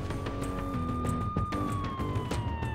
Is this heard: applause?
no